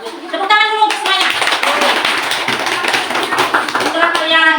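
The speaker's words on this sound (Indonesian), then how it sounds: "Tepuk tangan dulu untuk semuanya." A class of students claps in their classroom, loud rhythmic hand clapping that swells into a burst of applause, with children's voices and short sung or chanted phrases at the start and end.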